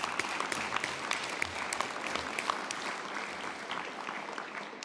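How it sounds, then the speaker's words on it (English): A room of attendees at a State Bar of South Dakota meeting claps for contributors, a steady patter of many hands at moderate distance, carrying on alone without talk for several seconds. "I want to give yourself and these folks a round of applause for their contributions"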